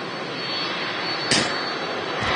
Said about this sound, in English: Vacating at the same exit that the 2E Dreamliner did before.